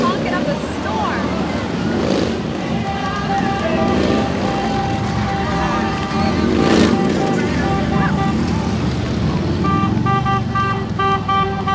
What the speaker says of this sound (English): They are honking up a storm.